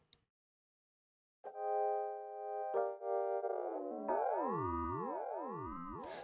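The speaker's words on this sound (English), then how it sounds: "Then I added a frequency shifter, which slowly shifts the frequencies up and down and sounds like this when you exaggerate." Sustained synth chords run through an exaggerated frequency shifter in Ableton, starting steady and then sweeping partials up and down in looping warbling arcs, clean and alone with no voices.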